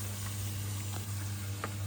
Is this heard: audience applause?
no